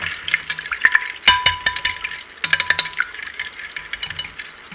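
An egg and maple syrup mixture being mixed in a bowl for soaking stale bread, with quick clinking taps and scraping strokes of a utensil in short uneven bursts, close by and with no voice.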